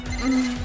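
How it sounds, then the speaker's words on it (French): A mobile phone buzzing on vibrate, a steady low hum with a faint ringing tone, heard close and alone for under a second. "C'est mon téléphone."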